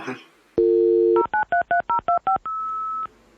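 A mobile phone keypad sounds a long tone, then a quick run of seven evenly spaced dialing beeps and a final longer tone, loud and close with no talk over it.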